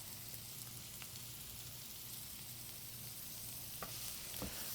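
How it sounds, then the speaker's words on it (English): Tofu scramble sautes in a pan with a steady, soft sizzle and occasional faint stirring scrapes, quiet and continuous with no talking. "we're just looking to saute this until it's softened"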